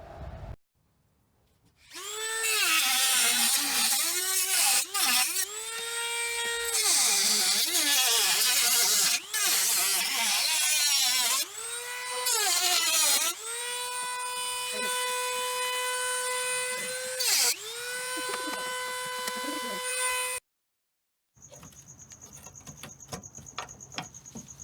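A power tool cuts along a ridge on a Ford Excursion headlight housing in repeated whining bursts with pitch dips as it bites into the plastic, loud and close, with a short pause before a quieter tone at the end.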